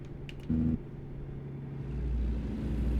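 A car engine hums steadily while driving out of a city in Montana, a low rumble that swells near the end as the car gathers speed, with a brief tonal blip early on.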